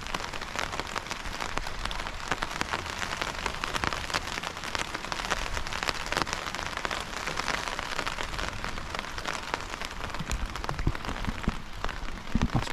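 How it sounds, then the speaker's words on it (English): Steady rain patters on a taut tarp shelter overhead while wild camping in the Northumberland hills, a dense, continuous drumming with occasional heavier drops, close and loud, no voices. "Listen to the rain on the Tarp though."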